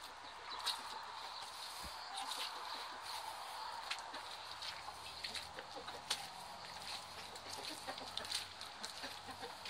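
A rooster clucks softly and intermittently at a distance, small sharp calls scattered over a steady background hiss, with no talking.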